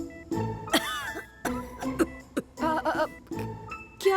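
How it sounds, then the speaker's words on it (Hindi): Several short, harsh coughs come in separate bursts with brief pauses between them, close and fairly loud, with no talking. "वो तो बाबा के खांसने की आवाज थी"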